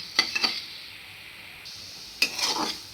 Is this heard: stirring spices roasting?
yes